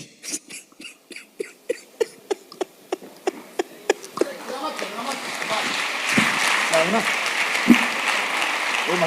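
Audience at an event beginning with a run of slow, evenly spaced single claps that quickens into dense, building applause lasting several seconds, with voices and cheering mixed in underneath.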